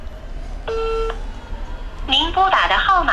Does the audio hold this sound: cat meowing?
no